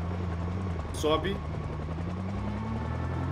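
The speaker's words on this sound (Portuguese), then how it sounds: "esse helicóptero não vai parar de perseguir a gente?" A helicopter flies overhead in the zombie survival game Project Zomboid, its steady low rotor drone running under the whole stretch while a voice speaks briefly.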